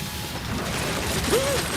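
A cartoon clue-vacuum gadget runs with a steady mechanical whir and clatter, a rising whistle sweeping through near the end.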